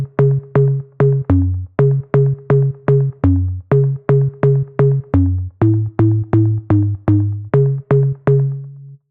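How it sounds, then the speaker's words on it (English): Punchy house-music organ bass synth preset plays a steady pulsing riff of short, clipped notes, about two per second, with brief pitch shifts down and up across the phrase, loud and alone. "it's a really punchy organ bass that sounds like this."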